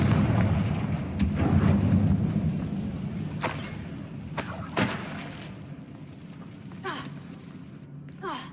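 A Confringo blasting spell detonates in Hogwarts Legacy, a loud booming burst with rumbling low end, followed by several sharper crackling impacts and debris-like hits that fade over a few seconds, with game ambience underneath.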